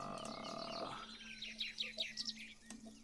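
Ambient game audio of a forest area in Forbidden Lands carries a few faint bird chirps and tweets, heard after a held tonal sound fades out.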